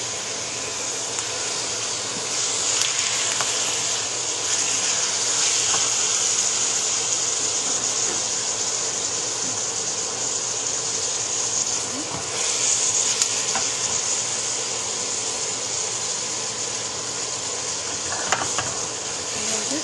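Ground meat for fried egg rolls hisses in a pan over a medium fire, a steady, fairly loud sizzle running unbroken from start to finish with faint scraping knocks.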